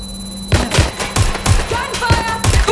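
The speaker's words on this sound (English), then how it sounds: "Gunfire!" Rapid bursts of gunfire crack in a Watch Dogs Legion gunfight, about eight loud close shots spaced a fraction of a second apart, with faint game sounds and vocal tones between them.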